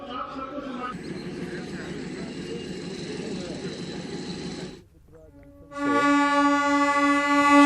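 DEMU passenger train bound for Sugauli running nearby with a steady low rumble, then a brief lull before a loud, sustained horn-like blare rises and holds to the end.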